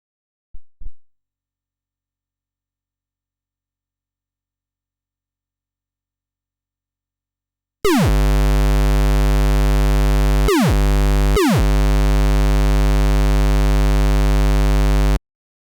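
A synthesized kick drum built from a square wave with a pitch envelope: two tiny clicks, then a loud sustained buzzy tone that drops sharply in pitch and restarts twice with quick downward sweeps.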